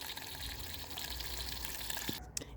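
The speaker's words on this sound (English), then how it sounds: "I'm going to actually go ahead and really quickly fill this up from my little simple working barrel. This is just gravity pulling the water down." Water flows steadily from a simple gravity-fed garden barrel into a pitcher, a continuous rushing gush close by that cuts off abruptly near the end.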